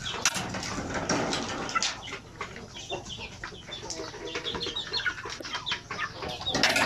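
Native chickens cluck and chatter nearby in a steady, busy flock, with several sharper calls standing out and a little wing flutter mixed in.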